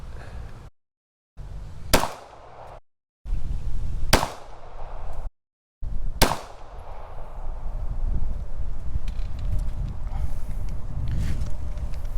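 Three loud gunshots ring out about two seconds apart while a Creative XP red dot sight is tested at a target outdoors, each a sharp crack with a short echoing tail, then steady wind and outdoor rumble.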